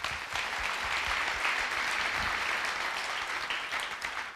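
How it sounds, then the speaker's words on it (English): A room full of people applauds steadily for several seconds, a dense wash of clapping at moderate volume with no break. "give yourselves a round of applause"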